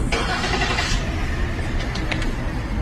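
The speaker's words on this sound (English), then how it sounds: "Door closed, engine start" A car engine turns over and runs at a steady, loud idle close by, with a short thump near the start that may be a door closing; no one speaks.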